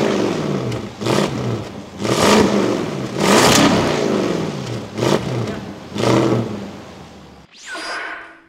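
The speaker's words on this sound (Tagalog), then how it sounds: "So, parinig ko naman sa'yo, kaswabe, ang kanyang V8 exhaust." A 2024 Land Rover Defender 110 Carpathian Edition with a supercharged V8 revs repeatedly, its exhaust booming through about six loud, close throttle blips separated by brief idle dips.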